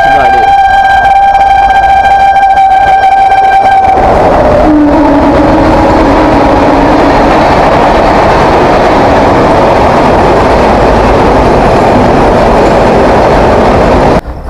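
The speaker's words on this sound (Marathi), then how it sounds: "फायनली गाईज आपली शालिमार रेल्वे आलेली आहे" Shalimar Express pulling into a railway station platform, a long loud horn blast at first giving way to a heavy rumbling roar of the arriving train close by, with a voice heard over it.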